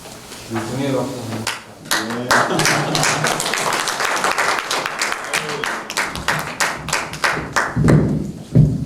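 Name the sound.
applause, clapping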